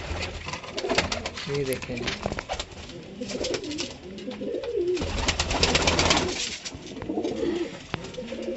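Pigeons kept in a loft setup coo repeatedly at close range, soft rolling coos layered with flutters and chirps while someone talks over them.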